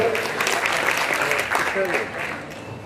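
Applause from an audience at a Punjabi Screen Club Rafi tribute night rises steadily for a performer, a dense continuous clatter with some voices mixed in beneath it.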